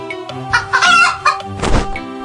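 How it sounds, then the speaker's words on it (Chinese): A pheasant caught wild in the mountains crows loudly in an animated fantasy scene, a few harsh calls over a steady background score. "找不到好母鸡，这只是山里抓的野鸡。"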